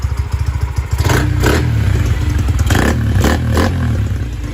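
A Honda Sonic 125 motorcycle with electric start runs close by, its engine revving with rising and falling throttle bursts and a steady low idle beneath, loud and alone.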